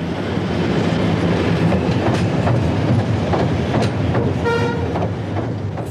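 Two diesel test engines running over a new railway bridge: steady loud rumble of rolling train with rhythmic wheel clatter and a brief horn toot near the end, close by and continuous, no voices.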